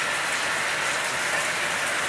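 Rain falls steadily on old, rusted metal roof sheets, a dense, even hiss of drops that holds at one level throughout, with no voices.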